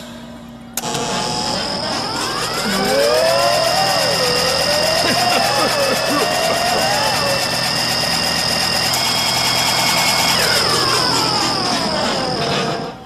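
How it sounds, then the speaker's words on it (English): A G-force machine simulating rocket takeoff starts with a thump, then a loud continuous mechanical hum and engine drone with whining tones that rise and waver before winding down at the end. "This G-force machine simulates takeoff."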